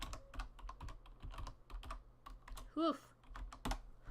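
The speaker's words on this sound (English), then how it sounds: "I'm typing as I talk." Fingers tap rapidly on a computer keyboard at a desk, an irregular run of close, crisp keystrokes, while a person exhales and briefly speaks over the clatter.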